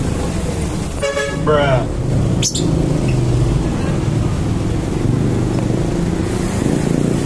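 Heavy midday traffic on Congressional Avenue, with trucks and cars rumbling past and a horn tooting near the start, heard from a bike ride as one brief voice speaks over the steady roadway roar.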